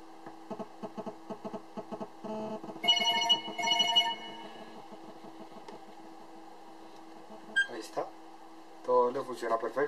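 A BlackBerry Torch 9800 handset rings with an incoming call, its tonal electronic ringtone phrases repeating in short bursts, fairly close and clear, pausing briefly before sounding again.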